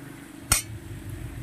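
A single sharp clink of a utensil against a cooking pan while diced ash gourd is stirred, one brief close knock over a quiet background hum.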